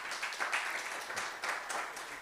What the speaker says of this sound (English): Can you please clap for him as he comes?